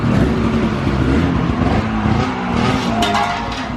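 An abandoned Ski-Doo Touring snowmobile engine idles steadily and loudly up close, a continuous buzzing drone with a brief sharper burst of revving near the end, and no talking over it.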